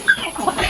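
Chickens on a small Philippine pig farm, giving a few quick close clucks in under a second.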